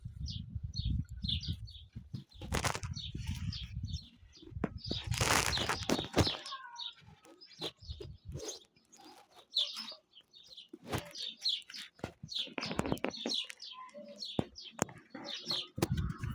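Bursts of bird wing flapping, loud and close, with scattered chirps and tweets throughout; no talking.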